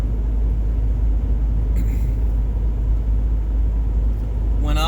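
Interior of a car bought new in 2018, cruising along with a steady deep road rumble and engine drone, plus a faint voice and a short squeak near the end.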